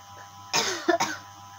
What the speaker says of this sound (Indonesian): Aduh, ini saya batuk.